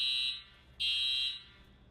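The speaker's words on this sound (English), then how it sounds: "here's a video of me in the dorm room as the fire alarm was going off" A fire alarm sounds in a dorm room as two loud, sustained electronic tones separated by a brief pause, with no voices.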